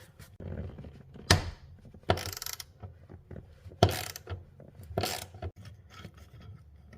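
A ratchet wrench working on the 17mm bolt that holds a seat belt in a 2010 Audi B8 S4, giving several short bursts of clicking with pauses between, close and fairly loud, with no talk.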